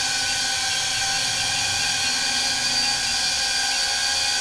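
A DJI Avata 2 drone's propellers run nearby, a loud, steady high-pitched whine and buzz holding constant throughout, no voices.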